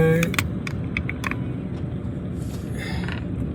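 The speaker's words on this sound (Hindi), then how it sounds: "अभी हम गाड़ी दूसरे गियर में चला रहे हैं।" An interior view of a car driving in second gear, with a steady low engine and road rumble throughout and a few light clicks and rattles near the start.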